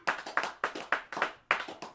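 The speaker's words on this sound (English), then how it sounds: "let's give a round of applause for Mr." A small audience at a record shop claps for a musician, with sharp claps arriving in loose, evenly spaced bursts about every third of a second, fairly quiet and close, with no talk over them.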